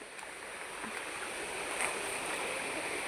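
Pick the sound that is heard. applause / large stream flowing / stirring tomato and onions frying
large stream flowing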